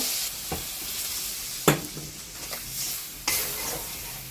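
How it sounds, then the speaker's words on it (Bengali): Frying potatoes and jackfruit sizzle loudly in a pan as spiced water is poured in, a broad steady hiss with a few sharper bursts and scraping stirs nearby, and no talk. "এবার জল দিয়ে দিলাম, মশলার জলটা ছিল।"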